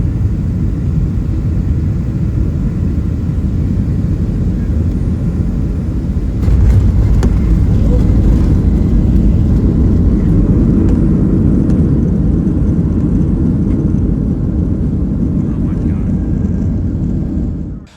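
From inside the cabin, a Southwest jet lands at Denver International Airport with a loud, steady engine rumble that swells partway through into a heavier roar as it slows, then cuts off at the end.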